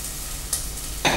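Onions frying in a pan for a butternut squash and peanut butter soup base, a close, steady sizzle with brief stirring scrapes, no talking.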